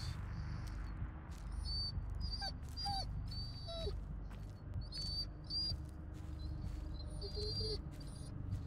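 Dog whimpering and yipping in the Blair Witch video game, a few short high cries heard over a constant low rumbling forest ambience.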